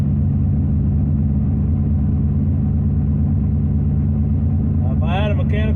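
A carbureted engine runs steadily after a cold start, giving a continuous low rumble, with a brief voice near the end.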